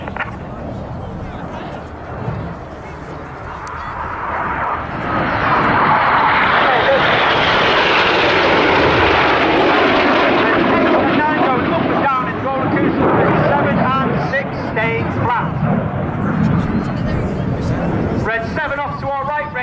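Red Arrows aerobatic jets at the Cosford Air Show dive low over the airfield, a loud broad jet roar that builds and sustains across most of the pass, with crowd and commentary voices underneath.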